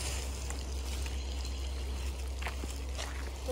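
Water from God's Acre Healing Springs in Blackville, South Carolina flows in a soft, constant trickle, faint and steady beneath a low background hum, with no one speaking.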